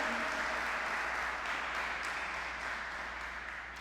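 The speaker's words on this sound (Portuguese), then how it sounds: "Dê uma salva de palmas bem forte para Ele" Applause from a church congregation, a dense wash of clapping that stays strong and gradually tapers off slightly toward the end.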